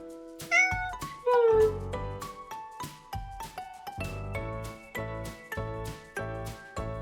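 A house cat meows repeatedly, several short close cries in an irregular, chattering rhythm, with tinkling jingle-like clicks and thumps scattered between them and no talking.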